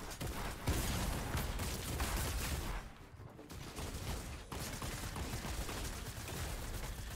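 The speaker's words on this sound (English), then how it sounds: "And I'm being shot from behind." Rapid bursts of gunfire from a Fortnite match rattle almost continuously, thick volleys of shots with a brief lull around the middle before the firing resumes at full intensity.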